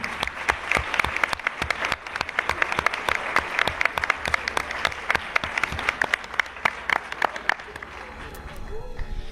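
An audience at a talk on haunted houses gives loud, fast sustained clapping, dense and close, before it thins out near the end as a voice starts to speak.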